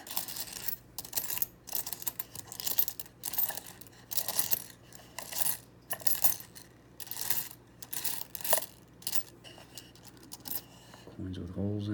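Old foreign coins clinking as they are sorted by hand, a loose stream of small metallic taps and jingles in irregular bursts, close and soft, with someone talking over them.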